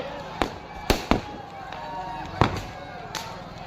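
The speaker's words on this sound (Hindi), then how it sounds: "देखिए पटाखे की थोड़ी सी चिंगारी के पास भी पहुंच सकती है।" Firecrackers burst during the burning of a Ravan effigy at a Dussehra celebration in Patna, Bihar: several sharp, loud cracks at irregular intervals over a steady outdoor crowd hum.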